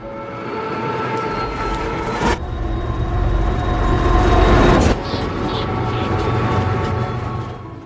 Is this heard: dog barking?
no